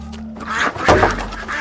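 A duck quacks loudly and close by in a short burst, with a low background hum underneath.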